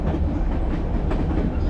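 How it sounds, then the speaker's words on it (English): A White Pass railway train rolls along the tracks in the Yukon, heard from on board as a loud, steady low rumble with faint clickety-clack from the wheels throughout. "This is the train."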